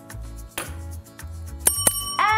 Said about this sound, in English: why don't we make it official and ring the bell?